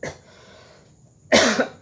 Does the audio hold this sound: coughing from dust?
yes